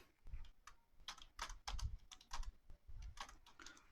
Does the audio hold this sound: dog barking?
no